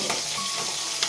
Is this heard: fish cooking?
yes